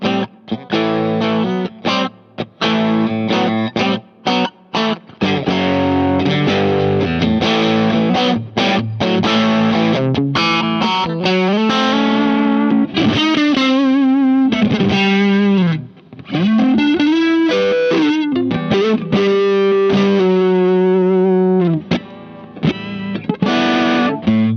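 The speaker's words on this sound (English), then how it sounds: "let's just add the hard clipping distortion circuit to" Electric guitar played through a Creation Audio Labs Holy Fire pedal on its hard-clipping distortion setting, loud and heavily saturated, with chords and sustained notes that bend and ring out across a long riff, alone with no voices.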